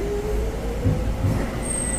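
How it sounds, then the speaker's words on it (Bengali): A Docklands Light Railway train rumbles into a London station with a low steady roar, faint wheel squeal and a brief high whine near the end; no one speaks. "ডিএলআর ট্রেনের জন্য অপেক্ষা করছিলাম, ট্রেন চলে এসেছে,"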